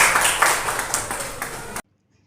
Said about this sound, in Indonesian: Kita beri tepuk tangan untuk Pak Juanda.